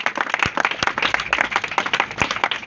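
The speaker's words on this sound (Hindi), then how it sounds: "रुबैका सिस्टर के लिए एक बार जोरदार तालियां।" An audience at an Islamic talk in Ghaziabad gives Sister Rubaika a round of applause: dense, loud, continuous clapping from many hands, close and sustained throughout with no talking over it.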